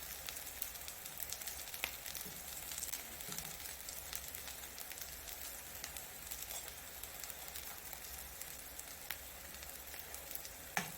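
Already-cooked potato bites fry in a pan, giving a steady, soft sizzle and crackle with occasional small pops throughout, fairly quiet and close with no talking.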